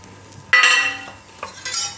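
Sesame seeds being tipped into a kadai on a gas stove for roasting, giving a bright metallic clatter and patter that starts sharply and then tapers off into a few lighter clinks.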